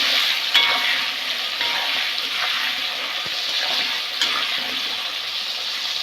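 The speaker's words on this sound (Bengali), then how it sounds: "আলুগুলো ভালো করে ভেজে নেব।" Potatoes with turmeric and salt fry in oil, giving a steady close sizzle with occasional soft scrapes and taps of stirring, no voices.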